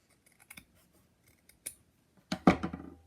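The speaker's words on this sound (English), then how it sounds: "I'm going to cut it." Scissors snip through vintage Japanese fabric, a few faint light ticks leading into a sharp, close crunch of blades closing near the end.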